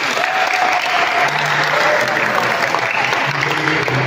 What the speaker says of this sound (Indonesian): Kita beri tepuk tangan untuk kita semua kelompok ini.